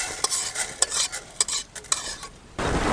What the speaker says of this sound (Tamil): நல்லா கடுகு பொரியுது